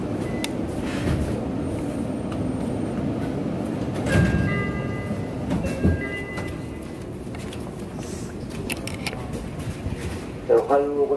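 A Meitetsu train at Higashi Nagoyako station on the Chikko Line, with a steady low rumble, a brief thump and door-like sounds around mid-clip, and faint tonal chimes, while people talk nearby throughout.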